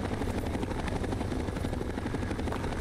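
A helicopter in the video game Fallout 3/New Vegas, a steady loud rotor chop filling the space, continuous and near, with no talk over it.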